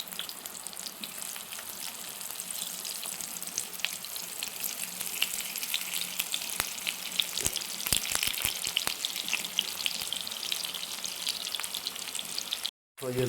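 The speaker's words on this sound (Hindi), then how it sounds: "देखिए, मैंने फ्राई पैन रख दिया था और ये हल्का सा तेल डाला" Slices for homemade zinger puffs frying in a pan with a little oil, a dense crackling sizzle with scattered pops running steadily throughout, cut off briefly near the end.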